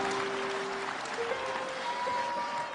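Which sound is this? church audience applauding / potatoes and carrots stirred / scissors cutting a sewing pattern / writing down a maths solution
church audience applauding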